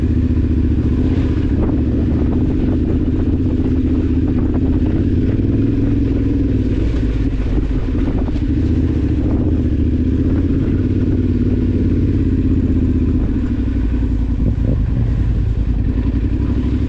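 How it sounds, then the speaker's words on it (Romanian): Motorcycle engine idling and revving on a forest adventure ride, a steady loud mid-pitched drone with occasional clattering and throttle changes throughout. "stai să-mi dau și eu relantiu mai mare, că mi se tot oprește motorul"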